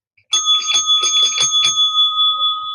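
Bright bell ring sound effect: a rapid burst of metallic strikes with sustained ringing tones that hold and slowly fade, loud and alone against silence.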